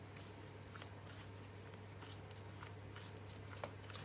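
Tarot cards are shuffled for a card reading, making soft, close riffling flicks in irregular bursts against a low steady hum. The sound is quiet and there is no talking.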